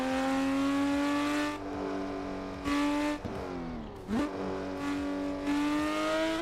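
A Porsche 911 GT3 in the Assetto Corsa racing game revs hard through several gear changes, its engine note rising, dropping and climbing again in repeated sweeps, loud and close with no voices.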